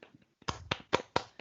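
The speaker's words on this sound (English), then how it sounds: "Clap for me." A few sharp hand claps, about five quick smacks in an uneven rhythm, close and fairly quiet in an otherwise still room.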